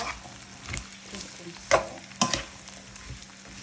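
Food frying in a pan for Nigerian fried rice is stirred, giving a steady soft sizzle with a few sharp scrapes and clanks of the utensil against the pan, close and fairly quiet.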